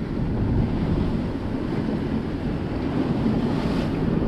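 Wind and breaking waves rush steadily around a sailboat sailing close hauled under main, with sea spray hitting the deck, a loud continuous roar of water and wind noise on the microphone.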